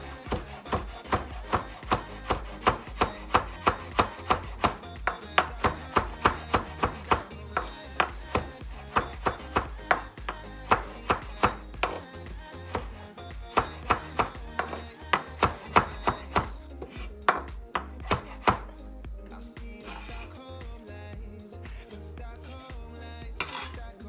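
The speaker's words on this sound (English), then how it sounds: "We're gonna chop our parsley." A knife chops parsley against a board in quick, regular strokes for about eighteen seconds. Each cut lands as a crisp tap close to the listener, and the chopping then slows into a few scattered, softer knocks.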